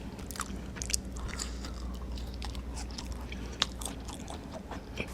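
Crunchy radish chewed close to the mic during a Korean mukbang of tteokbokki and chicken, with repeated crisp bites and scattered crunches over a low steady background.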